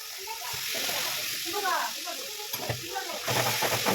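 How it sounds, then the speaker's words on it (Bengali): Paneer cubes being stirred and fried in a pan, a steady sizzle with scraping spatula strokes throughout, a louder burst near the end, with a voice talking over it. "এবারে পনিরগুলো দিয়ে দিলাম, দিয়ে নাড়াচাড়া করে"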